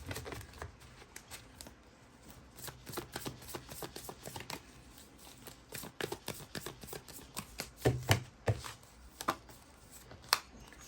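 Tarot cards shuffled and drawn from a deck in a rapid run of crisp riffling flicks and slaps, close and fairly quiet, with sharper snaps near the end and no talking.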